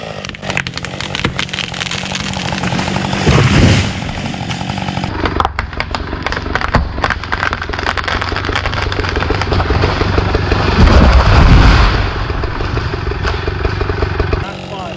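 Husqvarna 550XP or 390XP chainsaw making a plunge cut into a standing tree, revving loudly and continuously with rising and falling whines and clattering as the bar bores into the wood.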